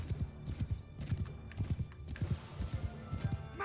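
Horse archers gallop in the video game Mount & Blade II: Bannerlord, a rapid clatter of many hooves in uneven rhythmic bursts, fairly close, with a faint neigh.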